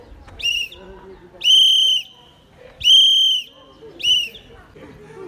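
Four sharp Morse code whistle blasts in a short-long-long-short pattern, loud and near, with quiet gaps between them.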